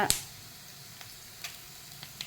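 Coriander seeds and urad dal roasting in a dry pan make a faint, quiet sizzle, with a sharp clatter at the start and a few light ticks and scrapes of stirring.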